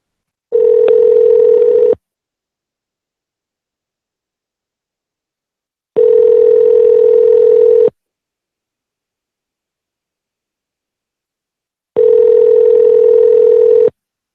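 Three long telephone tones ring out on the line. Each lasts about two seconds and is separated by roughly four seconds of silence, clear and loud with nothing else heard.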